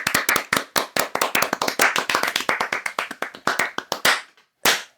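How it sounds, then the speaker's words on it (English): Two people clapping their hands in applause after a candy popcorn taste test, a quick run of crisp, close hand claps in a steady rhythm that stops, pauses, then resumes briefly. "That deserves a round of applause."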